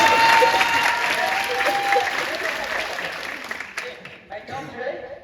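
Audience applause at a stage show, a loud, dense round of clapping that gradually thins and fades out with a few scattered claps at the end.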